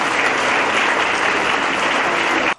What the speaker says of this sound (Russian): Спортсменам под аплодисменты вручают грамоты и медали